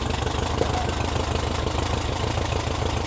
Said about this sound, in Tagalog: Okay na okay yung ating makina.